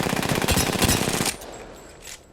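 Wingman revolver fire in Apex Legends: a loud, rapid string of gunshots, then a sharp drop to a faint tail with one more shot at the end.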